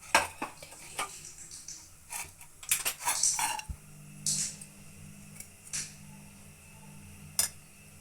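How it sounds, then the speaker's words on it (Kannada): A pan is set down on a stove with metallic clanks, followed by scattered spoon taps and scrapes as a couple of spoonfuls of oil go in for tempering an egg sambar; clear, close kitchen clatter with pauses between hits. "ಅದೇ ಬಾಣಲೆ ಇಟ್ಕೊಂಡು ಅದಕ್ಕೆ ಇನ್ನೊಂದೆರಡು ಸ್ಪೂನ್ ಎಣ್ಣೆ ಹಾಕ್ಕೊತೀನಿ"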